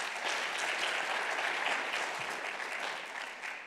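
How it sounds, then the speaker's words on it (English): Closing-session audience applause at a mining summit in Botswana, thanking presenters and hosts: a full, even round of clapping from a large crowd, heard at a moderate distance and fading slightly toward the end. "You deserve another big round of applause."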